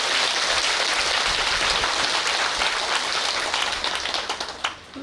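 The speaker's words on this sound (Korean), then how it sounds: "큰 스님을 위해서 박수" Sustained, loud audience applause fills a Buddhist dharma hall in honour of a senior monk, a dense continuous wash of clapping that tapers off near the end.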